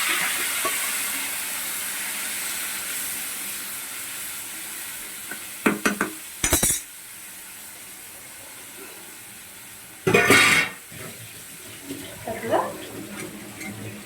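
Chicken frying in a little oil with coriander, curry leaves and green chillies gives a steady soft sizzle, broken by a few louder clatters of stirring and scraping in the pan.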